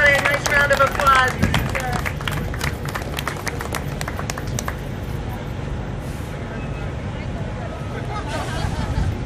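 Audience applause at a Port Hueneme power plant event, a round of clapping from a gathered crowd that thins out into murmuring voices and background babble.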